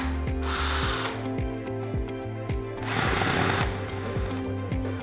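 A power drill drives screws for a TV wall mount bracket in repeated whirring bursts, each spinning up and winding down, close and fairly loud.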